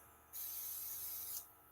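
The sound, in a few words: spray gun spraying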